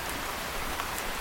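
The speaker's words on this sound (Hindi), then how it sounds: "मूसलाधार बहुत तेज बारिश होने लगती है।" Heavy torrential rain in a cartoon, pouring down in a dense, steady wash of hiss with no pauses, loud and close throughout.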